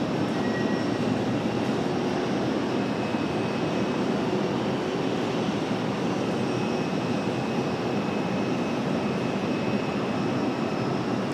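An airliner arrives at Raleigh-Durham International Airport, its jet engines producing a steady, loud, broadband roar that holds constant throughout, without voices.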